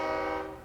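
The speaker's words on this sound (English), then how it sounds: "Sorry about the train, guys. I do live next to a train station," A train horn or whistle sounds near a train station, a loud sustained tonal blast with stacked harmonics that fades slightly over a brief moment, with no talk.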